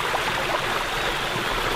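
A stream flows steadily across a hiking trail on the Kunisaki Peninsula in Japan, a continuous close rushing and trickling of water with no pauses.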